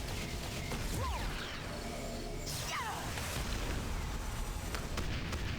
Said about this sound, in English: missed her with all the rockets